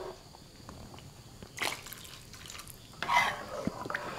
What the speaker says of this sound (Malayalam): നമുക്കിനി തേങ്ങാപ്പാൽ ഒഴിക്കാം, 1/2 പാൽ ഒഴിക്കാം.